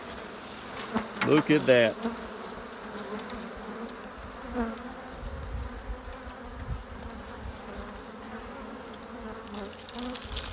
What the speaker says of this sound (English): That is some bees right there